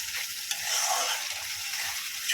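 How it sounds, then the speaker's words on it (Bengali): Spice paste for a tilapia fish curry is stirred and fried in a pan with small splashes of water, giving a close, steady sizzle with scraping strokes of the spoon and no talking. "মশলা যখনই কষাবে একটু সামান্য সামান্য জল দিয়ে দিয়ে কষাবে"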